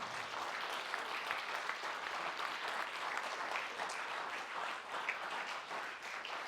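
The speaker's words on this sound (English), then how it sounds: "Give him a round of applause." An awards-event audience gives sustained, even applause for several seconds, many hands clapping at once in a full, continuous roar that fills the room.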